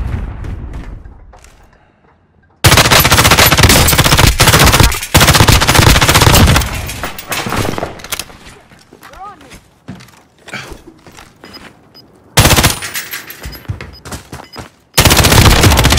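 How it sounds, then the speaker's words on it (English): Bursts of automatic gunfire and heavy shots in the Warzone video game battle royale, loud rapid volleys that break off into quieter gaps with footsteps and thuds, then resume, with a player speaking at times. "I'm taking fire!"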